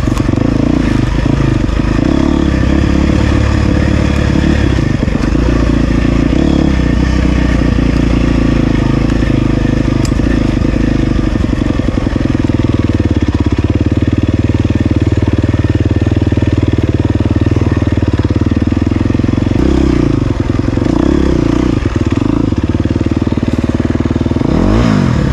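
A GasGas EX250F dirt bike rides woodland single track in Pennsylvania. The four-stroke engine is loud and close, revving and dropping back constantly with clattering over the terrain, heard steadily for the whole stretch.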